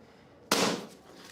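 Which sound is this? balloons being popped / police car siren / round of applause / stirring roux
balloons being popped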